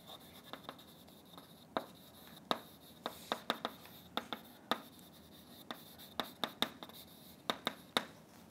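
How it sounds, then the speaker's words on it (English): Chalk or marker writing on a board during an algebraic geometry lecture, a scattered series of short taps and scratchy strokes at close range, alone in a quiet room with no talking. "I'll write it down."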